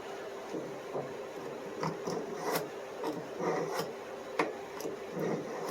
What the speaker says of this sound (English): We're going to sharpen it.